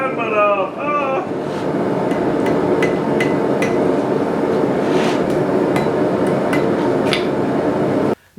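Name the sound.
blacksmith hammering steel to taper a letter opener sword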